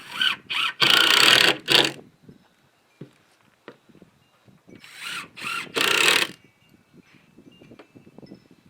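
A power drill drives screws into a wooden skateboard grind box in two loud bursts, each a sustained whir of about a second, with softer knocks and handling clatter between them and no talk.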